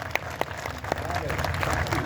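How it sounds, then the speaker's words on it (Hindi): An audience at a Dainik Jagran event claps together, a steady patter of applause with sharp individual claps, heard under a voice speaking. "जोरदार तालियां बजाइए।"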